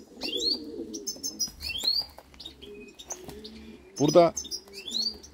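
Pigeons outside open coops give soft cooing calls and sharp chirps close by, with a brief burst of wing flapping, while someone speaks quietly now and then.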